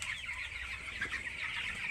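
Young broiler poultry, nineteen days old, keep up a dense, even clucking from a packed flock, close by and unbroken, with no human voice over it.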